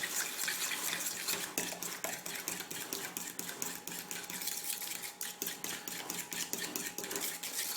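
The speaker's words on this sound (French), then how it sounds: "Puis avec une fourchette pour pas qu'il y ait de grumeaux, quoi." A fork mixes the topping for tarte flambée in a bowl, producing quick rhythmic clinks and taps of metal against the dish over a wet, squelchy stirring sound, close and steady for nearly eight seconds.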